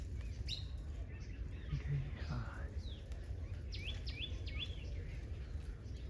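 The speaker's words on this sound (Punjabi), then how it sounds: "ਇਹਨੇ ਕਿੰਨੇ ਸਾਰੇ ਇੱਥੇ ਤੋਤੇ ਬੈਠੇ ਅੱਡ ਅੱਡ ਟਾਈਪ ਦੇ" Several kinds of parrots perch and call at a forest gurdwara, their brief chirps and squawks scattered across a steady low outdoor hum, moderately distant.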